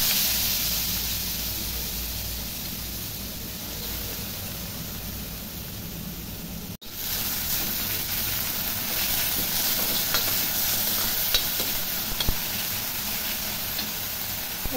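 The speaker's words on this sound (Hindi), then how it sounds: "इसमें हम हींग डालेंगे और उसके बाद हम इसमें प्याज डालेंगे" Hing and onions fry in oil in a kadhai on a gas stove, giving a steady close hissing sizzle with faint stirring scrapes and a brief dropout midway.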